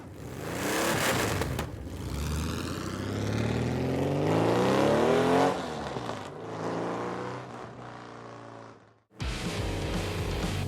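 A Porsche 911 Carrera 4x4 built for the Paris-Dakar Rally roars close by, its engine climbing through revs with rising whine and gear changes, then dropping off briefly before surging loudly again.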